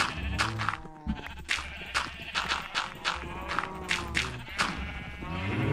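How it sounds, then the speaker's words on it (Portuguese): In Minecraft, a sheep bleats repeatedly in short wavering calls, several in quick succession, over soft in-game footsteps and background sounds. "Ó, tem uma ovelha lá do lado de fora querendo entrar."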